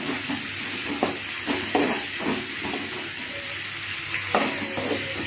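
Green chili, mustard seeds and chana dal frying in hot oil for tomato sambar, a continuous close sizzle and hiss with occasional spatula stirring knocks throughout.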